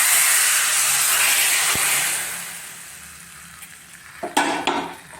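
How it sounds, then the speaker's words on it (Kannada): Tempering (oggarane) sizzles in hot oil for a sprouted-bean saaru: a loud, steady frying hiss that slowly fades, followed near the end by a few sharp clinks of a metal pot or spoon. "ಇದಕ್ಕೆ ಹಾಕೋಣ ಒಗ್ಗರಣೆ"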